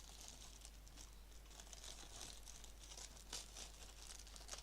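Plastic packaging crinkles and crackles close by as scissors cut into it, with faint, quiet rustling and small snips at a low level.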